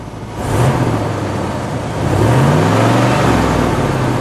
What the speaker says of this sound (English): Missy, give it a little rev.